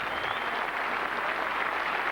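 A cricket crowd at a 1991 England versus West Indies Test match applauds, a steady, distant wash of clapping and crowd noise with no talk over it.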